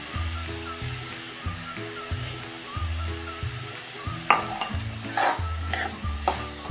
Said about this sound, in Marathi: बघा आता मिनिटभर हे असं परतून घेऊया